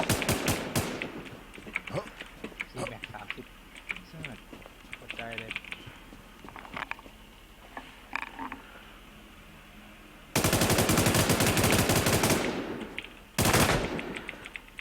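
Gunfire in the video game WarZ, with scattered shots early, then two long loud sustained bursts near the end, mixed with keyboard clatter and someone talking.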